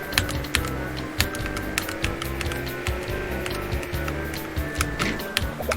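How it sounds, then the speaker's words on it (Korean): Computer keyboard keys clacking in rapid, uneven bursts during a 2004 KartRider demo session, close and fairly loud over steady game music, with brief hard taps standing out. "이게 키보드가 또 잘 안 눌린다"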